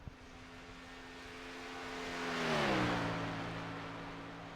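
A race car engine roars past during Xfinity Series qualifying at Chicagoland in a racing video game. A single car swells in loudness as it approaches, then its engine pitch drops as it passes and fades away.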